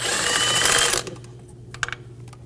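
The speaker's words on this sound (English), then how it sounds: "Using a 16mm socket, we're going to remove our spark plug. I'm going to crack them free and then remove them." A 16mm socket and ratchet working spark plugs loose on a 2008-2015 Scion xB 2.4L four-cylinder: a loud, close whirring rattle for about a second, then a few quiet clicks and taps.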